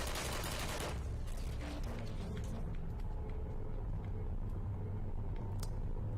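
Turrets in the video game Portal fire rapid automatic bursts. The gunfire is loudest at first, then tails off into scattered shots over a low rumble.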